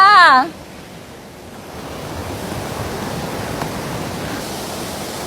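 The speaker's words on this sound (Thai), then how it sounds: "นี่ให้ดูบรรยากาศนะคะของน้ำตกชั้นที่สามนะ" The third tier of a nine-tiered waterfall in Suan Phueng, Ratchaburi, gives off a steady broad rush of falling water that fills the scene; a brief voice is heard at the very start.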